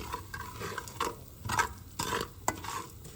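Spoon scraping and stirring a roux of Zatarain's gumbo mix and oil in a large pot for chicken and sausage gumbo, rhythmic scrapes roughly every half second, close and soft with a faint sizzle.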